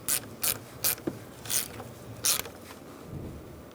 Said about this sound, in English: We're going to put our negative battery terminal on using a 10mm socket.